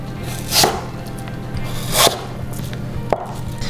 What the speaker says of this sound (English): So we're gonna finally slice the apples.